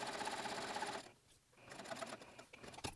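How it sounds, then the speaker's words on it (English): A sewing machine stitches a dart in a muslin bodice, its fast steady whir running close and clear, pausing briefly before resuming in short bursts. "start sewing with the dart leg itself"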